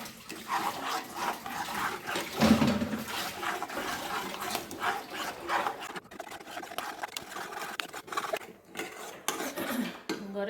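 Homemade papaya jelly stirred in a pot with a utensil, faint scraping and clinking of metal against the pot in an irregular rhythm, close by, with a brief louder knock early on.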